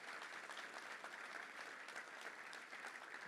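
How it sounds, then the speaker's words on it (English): An audience at a Little Rock Touchdown Club luncheon gives a round of applause for a new executive director, steady dense clapping from many hands without pause. "Let's give a round of applause to Stephen Riffle,"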